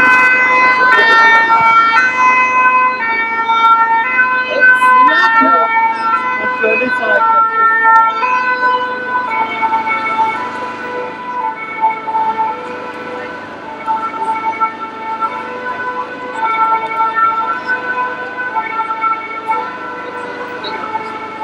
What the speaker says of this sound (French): On va laisser passer les ambulances.